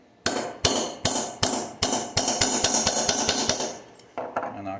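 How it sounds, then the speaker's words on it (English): A hammer and punch drive out the trigger guard roll pin on an AR-15 rifle: about a dozen sharp metallic knocks, close and loud, with the blows coming faster and closer together toward the end. "I knock that pin out."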